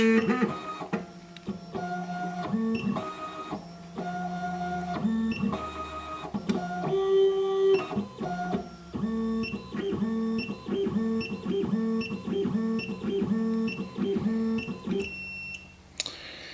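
An SEC E9 key cutting machine cuts a key blank, giving a steady, close mechanical whir with a run of regular, repeated tonal beeps and clicks. The sound holds fairly loud for about fifteen seconds and then stops abruptly.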